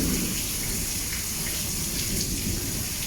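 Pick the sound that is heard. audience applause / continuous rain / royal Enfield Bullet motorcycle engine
continuous rain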